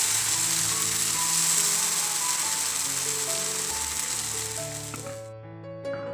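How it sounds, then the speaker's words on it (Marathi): Spinach and wheat-flour dosa batter sizzles on a hot, oiled griddle in a steady, close hiss that fades out near the end. "तवा छान तापून घ्यायचा आणि वरतून तेल लावायचं आणि वरतून हे तयार केलेलं घावण्याचं बॅटर घालायचं"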